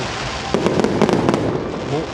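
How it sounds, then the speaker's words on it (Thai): Fireworks bursting over the Chao Phraya River at Wat Kalayanamit during a temple light-and-sound display, a quick cluster of sharp pops and crackles over steady crowd and ambient noise. "จุดพลุบริเวณ วัดกัลยาณมิตรนะครับ"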